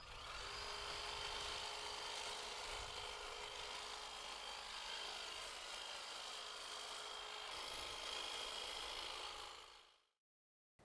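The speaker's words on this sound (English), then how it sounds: "Makes a lovely job of cutting the hedge." A Cobra 24V cordless hedge trimmer cuts through a hedge, giving a steady, busy buzzing and rustling texture close by for about ten seconds before stopping abruptly.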